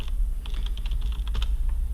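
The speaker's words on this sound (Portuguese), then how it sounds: "Tô digitando a senha errada." Keys clatter steadily as a password is typed on a computer keyboard at a Linux machine, a close, continuous run of quick clicks over a low background hum.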